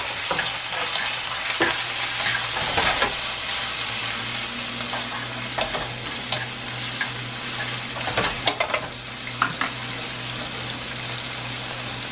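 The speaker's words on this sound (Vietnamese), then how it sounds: "Thế bây giờ mình sẽ cho con tu hài vào." Chopped geoduck clam tossed in a pan with fried minced garlic, a steady loud sizzle with scraping stir strokes and occasional spatula clinks, no talk.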